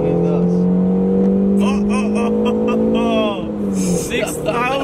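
A first-generation BMW-built MINI Cooper engine pulls hard toward about 6,000 RPM, its rising drone steady and loud, easing off near the end while people talk over it inside the car.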